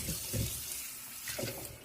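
Lukewarm water running steadily from a kitchen tap into a sink, a continuous close hiss with slight splashing and no voices.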